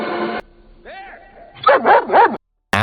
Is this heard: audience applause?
no